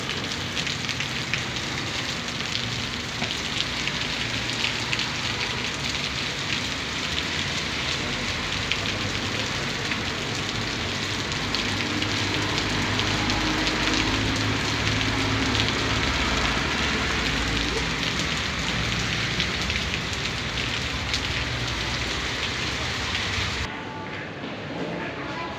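Heavy rain pours at a bus departure point, a constant dense roar of drops drumming on surfaces that stays steady throughout and cuts off briefly near the end.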